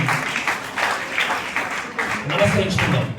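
An audience at a college International Youth Festival celebration applauds for Swami Vivekananda's garlanded portrait, a brief burst of dense, steady clapping from a crowd.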